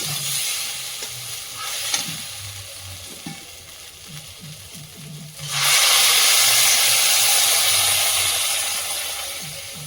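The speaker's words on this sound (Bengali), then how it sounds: "সবজিটা খুব সুন্দর করে কষিয়ে নিয়েছি, জল দিয়ে দেবো" Water is poured onto sautéed vegetables in a hot pan: quiet scraping and stirring first, then a sudden loud burst of hissing steam and sizzling that holds steady and slowly fades.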